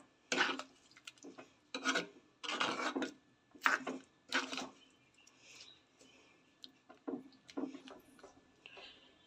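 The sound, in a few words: stirring dried fish curry in pot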